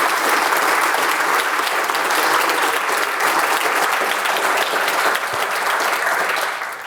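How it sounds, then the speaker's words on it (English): An audience at a foundation honoring event applauds steadily and loudly throughout, a dense continuous wash of clapping that tapers slightly at the end. "Hold the applause to the end."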